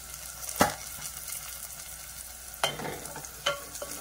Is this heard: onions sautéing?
yes